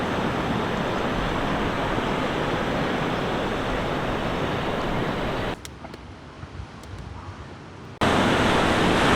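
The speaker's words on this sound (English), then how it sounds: "this is Otter Rock Beach, obviously a surfer's haven" Surf rolls in at Otter Rock Beach on the Oregon Coast as a steady, loud broadband wash, dropping briefly to a quieter lull before the roar returns; no voices are heard.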